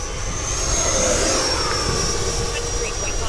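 An FMS Super Scorpion 90mm RC jet plane flying low through a canyon gives a loud, steady ducted-fan whine with a high turbine tone that holds for the whole stretch, with no pauses or talk.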